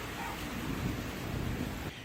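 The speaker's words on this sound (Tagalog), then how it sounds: "Pero maghapon pa rin maulan sa Baguio City." Steady rain hiss in Baguio City with low rumbling noise, fairly faint and continuous, no voices.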